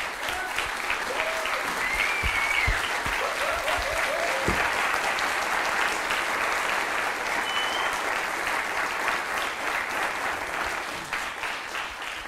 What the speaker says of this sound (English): so that you can give the applause to everyone